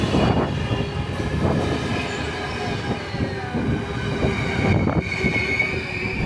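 A train in Norway, heard from inside a carriage: a steady rumble and rattle of the wagon with wheel noise and faint squealing, continuous and fairly loud throughout, with no talking.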